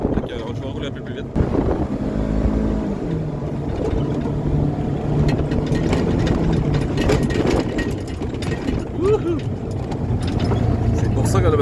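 A four-wheeler engine drones steadily while driving through large garden fields in early August, a continuous close rumble with wind buffeting, and a person talks over it for most of the time.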